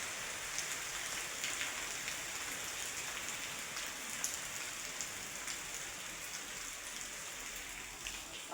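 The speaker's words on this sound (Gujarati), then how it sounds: "જો વરસાદ પડે અમારે," Steady rain pours down outdoors during a windy monsoon spell, a constant close hiss with scattered drop patters and no voices throughout.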